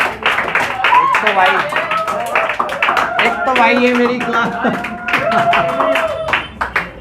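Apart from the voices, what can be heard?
students clapping in class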